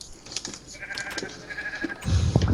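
A Minecraft sheep bleats in short wavering calls over game background sounds, with a busier low-frequency burst of in-game activity near the end.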